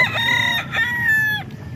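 A rooster crows once at a busy chicken market in Calumpit, its long harmonic call loud and close against a low crowd murmur.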